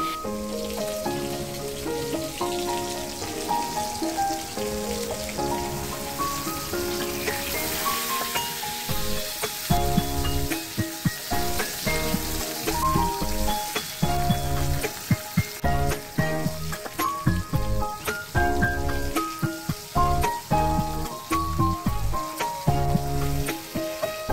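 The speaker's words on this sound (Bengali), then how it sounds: "এবার মাছগুলোকে ভেজে নিচ্ছি" Fish pieces marinated in turmeric, chili and salt fry in hot oil with a steady crackling sizzle, while music plays over it throughout.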